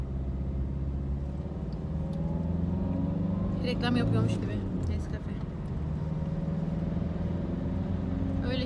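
A car drives along a road on a trip near Antalya, its low steady engine and road rumble droning throughout while people talk inside the cabin.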